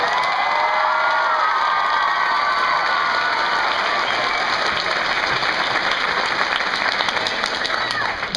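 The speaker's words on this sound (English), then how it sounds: "So how about a round of applause for my grandpa?" Dense, sustained applause with cheering and whoops from a crowd at a book launch party for Beyonders: A World Without Heroes, loud and steady throughout with no pauses.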